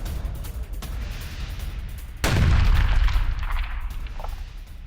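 Explosions from an attack in Tabriz, Iran: a rumbling background gives way to a sudden heavy blast at about two seconds, followed by a long, loud roaring rumble that slowly fades.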